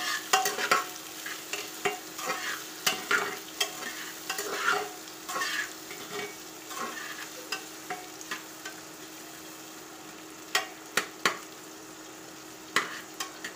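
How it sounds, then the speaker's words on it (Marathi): Sliced onions for chicken biryani fry in a pan with a soft continuous sizzle, while a spoon scrapes and stirs in irregular clattering strokes, close and without talk. "याला चांगल्या प्रकारे हलवून घ्यायचं आहे व लालसर किंवा पिंक कलर होऊसर याला तळून घ्यायचं आहे"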